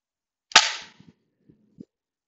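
A single sharp crack from an Umarex XBG BB air pistol, followed by a few faint small ticks as the BB strikes and rattles off a lid, set in a quiet space.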